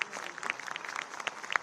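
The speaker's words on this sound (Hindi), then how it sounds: "जोरदार तालियां बजती रहें।" An audience at a National Youth Day event in India claps in dense, continuous applause with sharp individual claps standing out, moderately loud and steady throughout.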